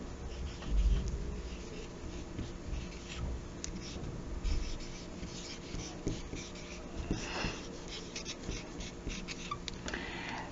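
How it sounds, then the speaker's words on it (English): Pen or pencil writing words by hand during a phonics lesson on the th and sh digraphs, a soft continuous scratching of strokes close by, fairly quiet, with low background noise. "I'm going to write some more words"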